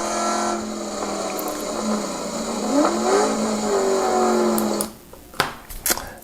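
A Ford Mustang's engine drones loud and close on the Apex Motor Club race track, pitch rising through a gear, then cutting off abruptly into a few sharp clunks and bumps.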